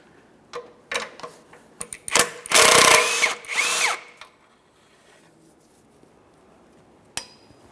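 A power tool spins off the 14 mm exhaust manifold mounting nuts on a 1994–1997 Honda Accord 2.2L four-cylinder, in a few short whirring bursts with metallic clicks and clatter between them, close up and with no speech.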